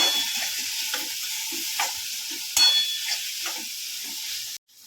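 Sponge gourd (galka) pieces cook in hot oil with coriander-cumin powder, giving a steady loud sizzle with scraping stirs, until it cuts off abruptly near the end.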